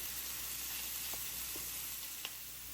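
Onions caramelizing in a pan give off a soft, steady sizzle with faint crackles and pops, quiet and continuous with no voices.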